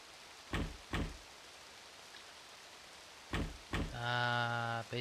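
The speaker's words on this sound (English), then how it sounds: "Knock, knock, knock, knock." Knocks on a door in the video game Azure Dreams come as two short pairs of thuds separated by a pause, followed by a sustained tonal chime, set against a faint rain-like hiss.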